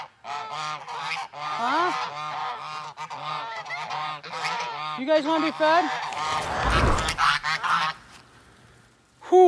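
A flock of geese honks repeatedly on a farm by a barn, loud and close, a busy chorus of nasal calls, while someone talks to them over the noise.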